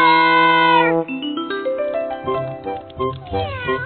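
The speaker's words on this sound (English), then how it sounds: "The cat!" A cartoon cat meowing: a long, loud, tonal mewing cry at the start, then a series of shorter wavering meows and yowls, close and clear, with some voice-like sounds mixed in.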